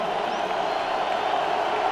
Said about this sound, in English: Crowd trying to bring some noise down.